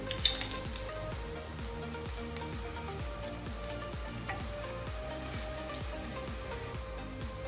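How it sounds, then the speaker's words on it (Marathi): Sabudana thalipeeth frying in homemade ghee on a hot pan, a steady close sizzle with a soft crackle running evenly throughout, no voices. "छान गावरान तूप टाकून आपण ते खरपूस भाजून घेऊ दोन्ही साईडने"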